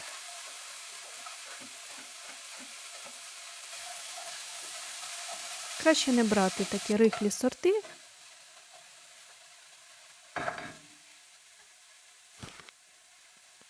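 A pan sizzles steadily with onion, garlic and diced apples frying, broken by scraping stirring sounds, while someone talks over it.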